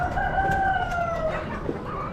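Chickens cluck and a rooster crows with a drawn-out tonal call at an Amish animal auction, close amid steady crowd and barn noise.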